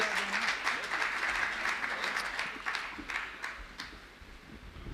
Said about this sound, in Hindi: आप आकाश भर तालियां बजा करके उन्हें काव्य पाठ के लिए आमंत्रित करें